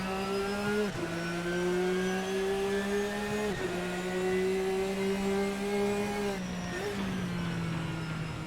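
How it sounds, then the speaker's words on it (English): Lamborghini GT race car engine in Assetto Corsa, a loud steady high-revving whine that climbs through the gears, with three sharp dips at each upshift as the car accelerates, running continuously throughout. "And I hear a Lamborghini."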